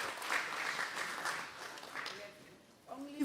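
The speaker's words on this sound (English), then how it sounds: "You can give yourself a round of applause" A conference audience at a local government event applauds with steady dense clapping for about two seconds, then the applause thins out and fades. Faint voices show up near the end.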